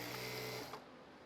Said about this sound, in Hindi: अब यहाँ पर सिलाई लगाएंगे।